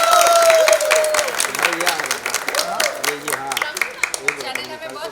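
Crowd clapping at a TV show's three-year anniversary celebration, a lively round of applause and cheering that tapers off as people keep talking over it.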